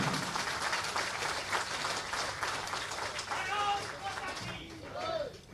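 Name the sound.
audience applause at a political rally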